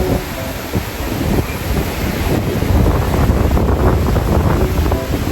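Strong wind on Boracay roars and buffets the microphone continuously, a loud broadband rush with gusts swelling throughout.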